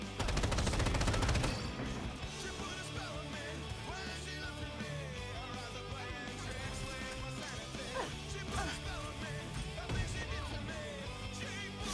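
Video game battle gunfire, a loud rapid burst at the start giving way to continuous rattling shots mixed with a dense, busy game soundtrack.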